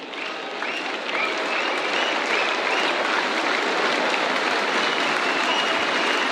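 A big cricket crowd at the SCG in Sydney applauds Australia's winning runs against Pakistan in the third Test, with dense, sustained clapping and cheering that swells after a second and stays loud and continuous.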